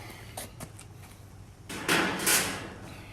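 The thin metal briquette drawer of a Smoke Hollow smoker and gas grill combo slides and rattles, a few light clicks followed by a louder scraping slide and clatter near the end.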